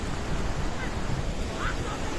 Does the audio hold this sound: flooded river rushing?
yes